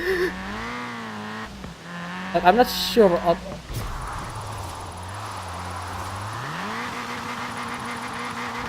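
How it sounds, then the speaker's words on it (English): Toyota Trueno AE86 Enjuku Racing Edition drifting in Forza Horizon 4, its engine droning and shifting pitch, with a burst of tire squeal in the middle; someone talks over parts of it. "So right, let's start drifting a little bit around here."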